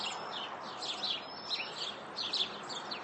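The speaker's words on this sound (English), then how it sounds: "There's a flock of sparrows." A flock of sparrows chirps from inside a bush near a back porch on an overcast, chilly morning, quick clusters of high tweets repeating every half second or so at moderate distance over a soft steady background hiss.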